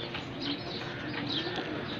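A Punjabi pigeon gives soft, faint cooing calls in a quiet setting, a few low, gentle coos close by with no talking.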